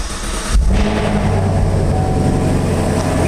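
A convertible's engine fires up with a push-button start, a sudden low rumble surging in after a brief moment and settling into a loud, steady throb close by.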